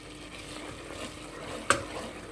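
Chickpeas fry in a pan with curry leaves for chole masala, a soft steady sizzle with stirring, broken once by a sharp clink of the utensil against the pan.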